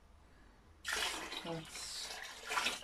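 Cold water is poured into an elderflower champagne mixture, starting as a sudden steady splashing rush that keeps going to the end, while a voice speaks briefly partway through.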